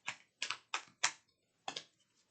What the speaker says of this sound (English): Let's pull our angel number cards out